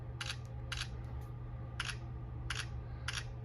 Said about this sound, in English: it's going to make a pretty loud shutter sound.